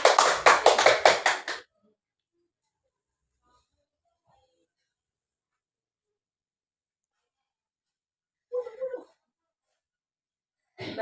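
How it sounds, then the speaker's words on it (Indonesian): Classmates in a classroom clap for their peers in a short burst of about a second and a half, then quiet, with a couple of faint brief sounds later. "Tepuk tangan teman kalian."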